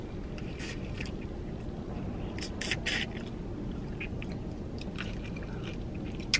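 Close, crunchy chewing of salty boiled peanuts with scattered bites over a steady low rumble of background noise, no talking.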